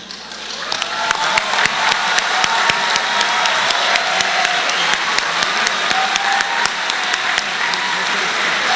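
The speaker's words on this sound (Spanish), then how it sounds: "yo quisiera pedirle un fuerte aplauso a los padres de familia." Sustained, loud applause from a graduation audience at a CBTis technical high school ceremony in Fresnillo, dense steady clapping filling the whole stretch with a few scattered sharper claps.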